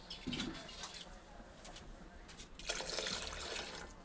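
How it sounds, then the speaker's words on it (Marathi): Water is poured into brinjal (eggplant) curry cooking in a pan for a village-style kordyas, a steady rushing splash that starts about two-thirds of the way in and continues loudly after a quieter stretch of faint kitchen noise. "आता आपल्याला हवं तितकं पाणी ऍड करून ही वांगी शिजवून घ्यायची आहेत"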